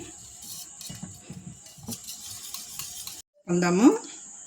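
Egg fried rice is stirred with spices in a hot pan, a spatula tapping and scraping through a steady hiss. A sharper, louder burst of sizzling follows a brief pause.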